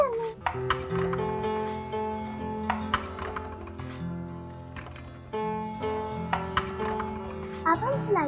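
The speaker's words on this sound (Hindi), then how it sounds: "सारे फ्रूट हम डालेंगे जूसर में।" Toy fruits dropped into a toy juicer, producing light plastic clinks and taps spread across the scene while someone talks throughout.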